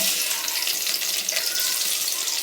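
Mustard seeds, cumin and garlic sizzle in three to four spoons of hot oil for a North Karnataka-style puffed-rice snack, a steady, close, bright hiss with no talking.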